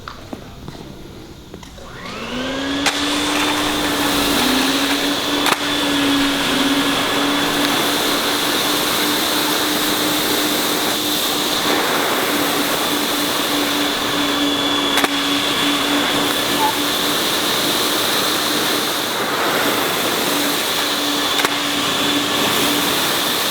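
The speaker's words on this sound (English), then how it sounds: "we'll just vacuum off the excess sand" A vacuum cleaner starts up and runs continuously with a steady high whine and roar, loud and close, without pause, vacuuming excess sand off an epoxy flake and quartz floor.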